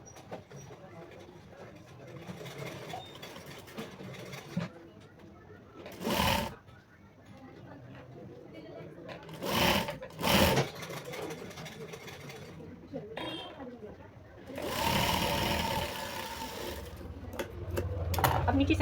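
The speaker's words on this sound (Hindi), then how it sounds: "इसी तरीके से हमें इस साइड से इस पर भी सिलाई कर लेना है।" A sewing machine stitches a blouse in short, separate loud runs. The runs come at about 6, 10 and 15 seconds, with quieter handling and background noise between them.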